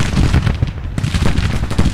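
Dense, continuous volleys of Civil War artillery and musket fire rumble and crackle in Grand Tactician: Civil War, a loud battlefield din of overlapping booms and shots with no pauses.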